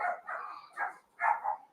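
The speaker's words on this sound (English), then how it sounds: "Dogs are gonna start barking." A dog barks about four times in short, close bursts, with brief gaps between them and one louder double bark near the end.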